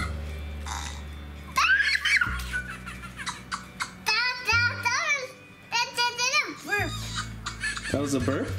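A Fingerlings monkey toy makes playful burping and giggling electronic noises in short repeated bursts, with children talking and laughing over and between the sounds.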